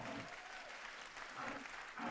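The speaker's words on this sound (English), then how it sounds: "you see how they clapping?" Audience at a Dave Chappelle comedy show clapping, a dense, steady wash of applause that swells slightly near the end, with no voices standing out.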